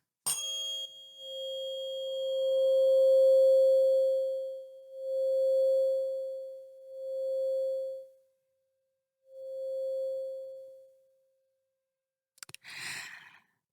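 A pure 528 hertz heart chakra healing tone hums in smooth swells that fade in and out several times, then goes quiet, and a brief rustle comes at the end.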